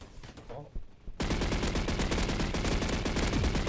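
Gunfire in a Roblox first-person shooter, Energy Assault: after a brief quieter stretch with a voice, a loud, rapid automatic burst kicks in and sustains without a break.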